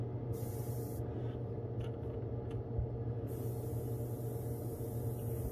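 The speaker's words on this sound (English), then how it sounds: "you're spraying at such low pressures" An airbrush sprays paint at low pressure onto a Megabass S-crank style fishing lure, a soft, steady hiss running continuously and close throughout with slight interruptions in the upper range.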